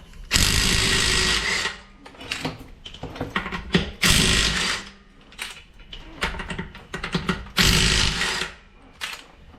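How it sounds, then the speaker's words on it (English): An impact driver rattles in repeated loud bursts of a second or so while loosening lug nuts on a 2018 Subaru Outback wheel, with short pauses between bursts. "I have this impact driver, so it makes it a little easier, but also can lead to stripping the bolts."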